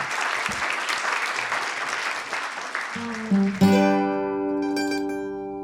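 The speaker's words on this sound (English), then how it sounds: "Let's do a round of applause for our panelists over here." Audience applause for the panelists at a public lands discussion, a full steady burst that ends after about three seconds and gives way to a sustained musical outro.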